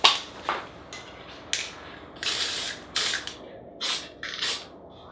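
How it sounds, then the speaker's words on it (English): Pearl shimmer spray hisses onto a sugar peony in about six short, close bursts with brief pauses between them, over faint room noise. "The last thing I'm going to do is just give it a quick pearl spray to add that real shimmer and glamour."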